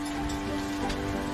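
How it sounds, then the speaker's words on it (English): Steady rain pelts down through a raging night storm, a dense continuous hiss that runs loud and even from start to finish with no voices over it. "night, a raging storm rolled in. The fitters worked through the night trying to mend Edward. The rain pelted down."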